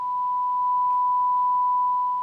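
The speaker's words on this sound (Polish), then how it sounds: "Może sprawdźmy sobie na sygnale 1 kHz." A steady 1 kHz sine test tone plays through a Denon DRA-350 stereo receiver, one pure unbroken pitch at constant level for the whole stretch, with no other sound.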